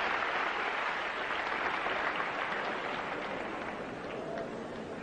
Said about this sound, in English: Kuchikin receiving rapturous applause for a 10 on high bar